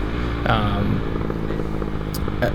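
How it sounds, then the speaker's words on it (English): A motorcycle engine rumbles loudly and close with a throaty exhaust note, shifting pitch as it changes gears. "loving that exhaust sound when I downshift"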